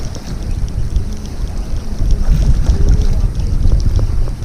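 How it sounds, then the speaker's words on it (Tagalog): A small fishing boat's engine drones low and steady as it approaches a shore on Pulau Rimau, blended with light wind on the microphone and rising slightly in loudness. "Nandiyan na yung bangka."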